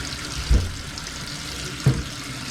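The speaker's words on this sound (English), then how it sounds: "I go and fill up a bucket of water" Tap water filling a bucket, a steady loud rushing hiss throughout with two dull thuds from handling the bucket, close and alone without talk.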